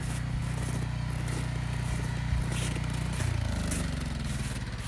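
A snow blower runs nearby during a snowstorm, its engine producing a loud, continuous low drone with a scraping rattle on top and a slight shift in pitch near the end.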